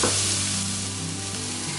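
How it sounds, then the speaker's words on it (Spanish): Shrimp and onion sautéing in a pan over moderate-low heat, a steady close sizzle and crackle of frying that holds evenly throughout, with no voices. "dejaremos pochar por unos 2-3 minutos a fuego moderado bajo"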